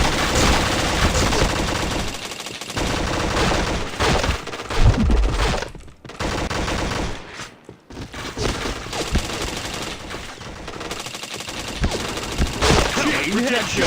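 Rapid bursts of video game gunfire, machine-gun fusillades and single shots, loud and dense throughout with brief gaps, while a voice talks at times.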